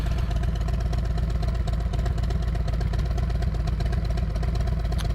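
A motorcycle engine with deep-toned aftermarket exhaust pipes idles steadily and loudly, a continuous low rumble with an even throb, no voices over it.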